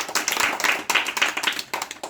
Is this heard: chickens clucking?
no